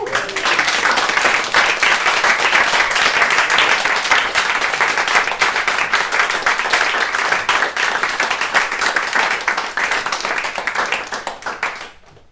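Sustained audience applause at a concert, dense and steady clapping from a large crowd filling the room, holding strong throughout before tapering off at the very end.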